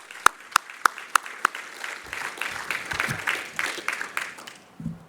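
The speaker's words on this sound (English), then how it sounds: "let's give them a special" An audience at a research program event opens with a few sharp, separate claps that swell within a second or two into full, loud applause, which then fades out near the end.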